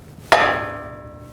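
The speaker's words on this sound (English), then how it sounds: "I'm going to take a hammer and just push the stud right up" One sharp metallic hammer strike on an inner tie rod stud of a Chrysler 200, close and loud, ringing out briefly before fading.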